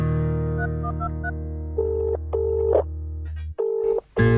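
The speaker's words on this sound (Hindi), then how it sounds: "अरे ये फोन ला नहीं उठाते गोपी है।" A phone's ringback tone repeats in short buzzing bursts over a steady dial hum, the line ringing on with no one picking up.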